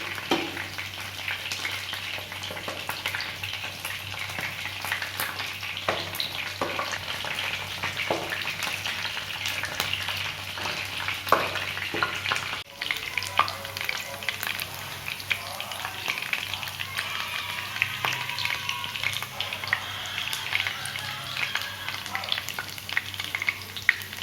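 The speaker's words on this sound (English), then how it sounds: "Keep stirring the chicken pieces up and down while frying." Chicken pakora pieces sizzle and crackle steadily in hot oil, with occasional clinks and scrapes of stirring, close and continuous with no talking.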